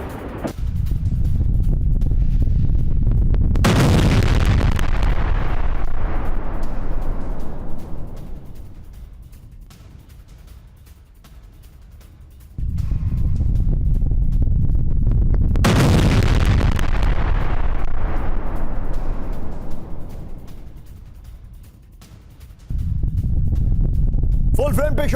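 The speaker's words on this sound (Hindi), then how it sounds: "जबालिया कैंप पर इजराइल की विध्वंसक बमबारी" Bombing of Jabalia camp in Gaza: two massive explosions roar in loud bursts, each followed by a long rumbling decay, with a third blast starting at the end.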